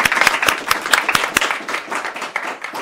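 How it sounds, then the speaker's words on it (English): Audience applause after a live Manx Radio budget programme broadcast, a burst of sharp, loud handclaps at first that settles into steady, denser clapping from a crowd close by. "I'd get them to give them a round of applause"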